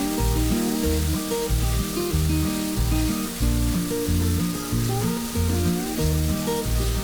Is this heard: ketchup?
yes